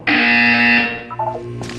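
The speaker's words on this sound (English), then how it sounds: "You will hear a buzzer." A loud electronic buzzer from the video game Portal 2 sounds once, a harsh sustained tone lasting under a second before fading into softer tonal game sounds.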